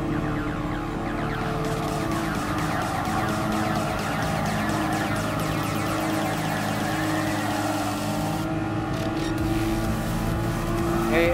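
A Lamborghini Countach races on a speedway track in a video game, its engine roaring continuously and loudly with steady high revs and a pitch shift near the end; no talking.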